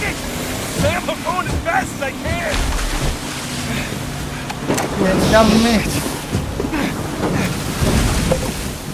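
A speedboat in the video game Uncharted: The Thief's End bouncing over ocean waves, with engine drone, splashes and wind under excited talk and exclamations from a player.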